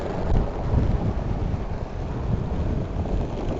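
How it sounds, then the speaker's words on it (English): Strong wind buffets the microphone in a continuous low roar, loud and unbroken throughout. "It's very windy right now."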